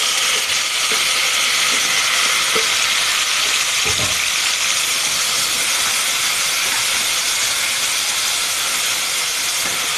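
Cumin seeds and tomatoes sizzle in a hot pan over a high flame while being stirred, giving a loud, steady hiss that fills the whole ten seconds, with a few faint clinks from the utensil.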